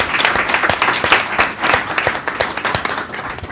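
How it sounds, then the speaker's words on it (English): Audience applause at a panel forum, a steady, loud patter of many hands clapping with sharp individual claps standing out, sustained throughout without speech. "I think applause is absolutely in order."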